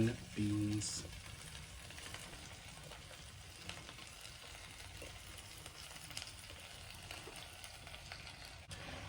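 Green beans, potatoes and sausage sizzle steadily in a pan while being stirred, a soft continuous frying hiss throughout with a louder scrape of stirring at the start.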